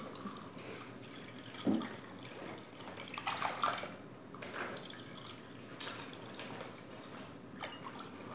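Water trickles and splashes steadily into a milk mixture for biscuit pudding, with a louder pour in the middle and softer dripping throughout, no voices.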